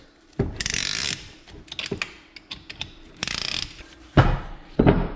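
Piston ring compressor being tightened around the rings of a 1965 Chevy Corvair engine piston, giving several close, loud bursts of metallic ratcheting clicks separated by brief pauses, with no talking.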